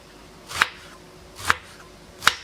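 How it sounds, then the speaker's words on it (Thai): A knife chops food on a board three times, sharp distinct strikes spaced about a second apart, close and clear with quiet between. "หั่นค่ะ"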